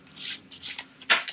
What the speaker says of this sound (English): So let's shuffle those up.